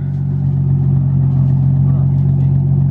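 A Nissan R33 Skyline engine runs at a loud, steady idle with a deep, even drone, heard close and without talk.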